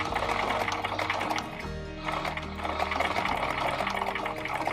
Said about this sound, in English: You're sewing through a lot of layers, so just be